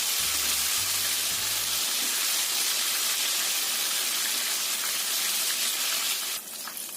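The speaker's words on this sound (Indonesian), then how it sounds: "Goreng sampai ayamnya matang." Chicken pieces deep-frying in hot oil, a dense continuous sizzle that stays loud and close, with a few low thuds early on and a brief shift near the end.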